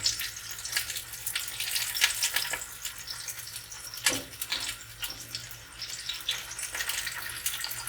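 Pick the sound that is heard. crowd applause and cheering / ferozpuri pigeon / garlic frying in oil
garlic frying in oil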